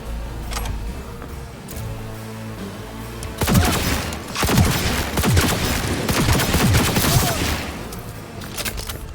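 Rapid gunfire from the video game Cyberpunk 2077 rattles in dense bursts over a low ambient rumble, growing heavier and more continuous in the second half of the exchange.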